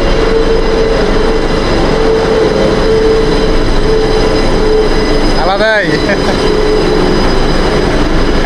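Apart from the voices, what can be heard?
Kolkata Metro train running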